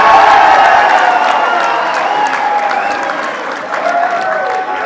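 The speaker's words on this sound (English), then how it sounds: "Let's give him a big round of applause." Loud, sustained crowd applause with some cheering at a political rally on education, a dense continuous roar of clapping that eases slightly but holds throughout.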